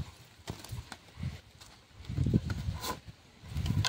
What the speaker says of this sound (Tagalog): Ito yung mga kabayo nila dito, mga kinakargahan ng kahoy ngayon.